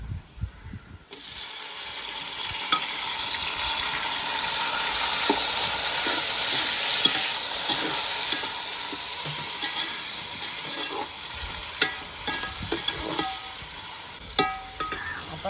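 Tomatoes go into onions frying in a pan for mushroom biryani, and a steady close sizzle rises, with scraping stirs and occasional clinks of a spoon against the pan.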